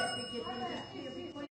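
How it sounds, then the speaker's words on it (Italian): A bell rings with bright, shimmering tones during a festive wedding lunch, mixed with lively voices, and the sound stops abruptly after about a second and a half. "campanello"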